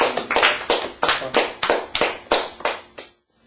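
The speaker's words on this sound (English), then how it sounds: "Everyone clap." An audience clapping in unison on a show, about ten sharp, evenly spaced claps in a steady beat, close and crisp, ending in silence.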